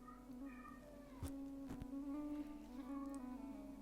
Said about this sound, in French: si vous entendez un chat, il s'agit de mon chat Horus